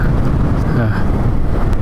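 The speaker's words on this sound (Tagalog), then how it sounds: "Sige lang, malakas ang hangin" Strong wind buffets the microphone on a motorcycle ride in loud, rumbling gusts, with a voice briefly audible under the roar.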